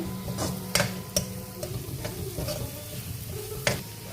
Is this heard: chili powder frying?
yes